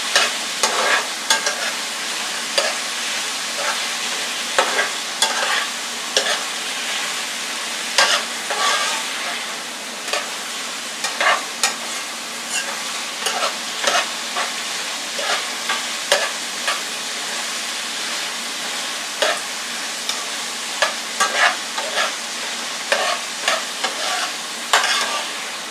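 Vegetables are stirred in a frying pan for a vegan veggie bowl, with repeated utensil scrapes and clacks against the pan over a steady close sizzle.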